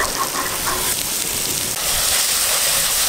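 Cooked peas and potatoes frying in masala with chilli powder, a steady close hiss and sizzle from the pan, continuous and fairly soft with no talking.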